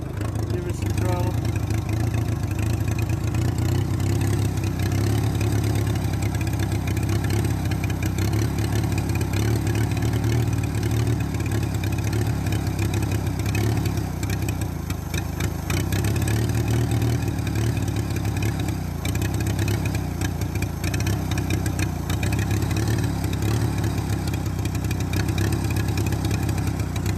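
A Minneapolis Moline BF tractor engine idles roughly with a new carburetor, a continuous loud, uneven chugging at close range that sounds like it wants to stall, holding steady for the whole stretch.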